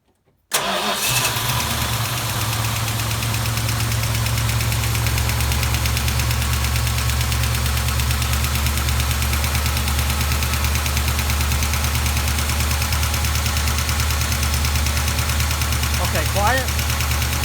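A Dodge Duster 360 V8 fires up and idles loudly and steadily, with a fast rhythmic clacking from noisy lifters running through the whole run, close to the engine.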